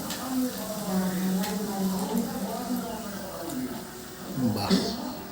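Pea-stuffed kachuri sizzle steadily in hot oil in a wok, a continuous close frying hiss under tonal sounds that may be a voice or music, with a brief louder burst near the end.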